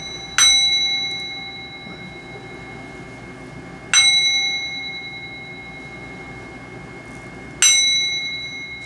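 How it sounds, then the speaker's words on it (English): Sound bowl struck three times at even intervals of a few seconds, each strike a bright ringing tone that slowly decays into a sustained hum. "Oh, I didn't ring my sound bowl. Hold on, I'm going to do 3 rings, okay?"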